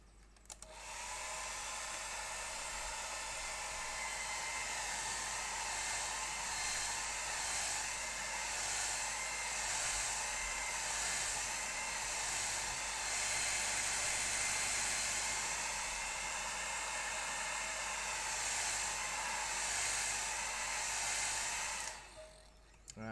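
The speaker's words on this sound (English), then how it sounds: "I'm just going to get the hairdryer." Hair dryer blowing steadily and loudly for about twenty seconds in an acrylic painting session, a continuous airy roar that starts abruptly and cuts off near the end.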